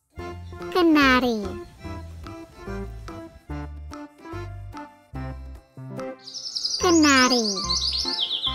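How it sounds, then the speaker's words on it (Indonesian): A canary gives two bright bursts of rapid, sweeping chirps, the second longer and shriller, set among short spoken words from a voice. "Kenari."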